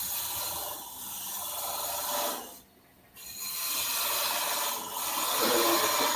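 A turning gouge cuts into a wooden bowl spinning on a lathe, giving a continuous close scraping rasp that dips briefly mid-way before resuming steadily.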